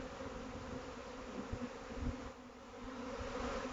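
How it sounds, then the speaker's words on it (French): Honeybee swarm forming in a garden, a dense continuous buzzing hum from many bees, steady and fairly close with no voices. "un essaim est en train de se former dans le jardin"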